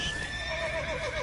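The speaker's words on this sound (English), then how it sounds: "Let's get off the horse." A horse neighs in The Witcher 3, a whinny that rises and falls over about a second, fairly close and alone over steady game ambience, with faint hoof clip-clop beneath.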